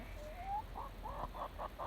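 A chicken moving around a blossoming garden with pear trees gives a short run of clucks, rising then repeated in quick even pulses, fairly faint against a quiet outdoor background.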